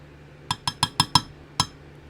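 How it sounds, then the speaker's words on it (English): A metal measuring spoon clinks sharply against a container while being tapped clean during soft plastic worm making, five quick bright strikes in a row, then one more after a short pause. "We'll clean that spoon off."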